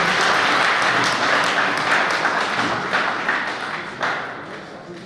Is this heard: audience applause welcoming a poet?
yes